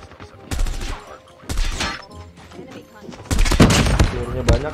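Full-auto M16 fire in Call of Duty Mobile comes in loud, rapid bursts, one early, one in the middle and a longer sustained string near the end, with a voice talking in between.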